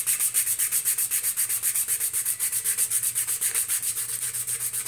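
Fine sandpaper rubbed over a cured epoxy-coated tumbler, a steady rapid back-and-forth scratching rhythm of about eight strokes per second, close and continuous without speech.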